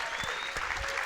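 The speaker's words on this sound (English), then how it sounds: "Give her a round of applause." A brief burst of dense, steady audience applause at a teen town hall event in Las Vegas, loud and filling the room for about a second.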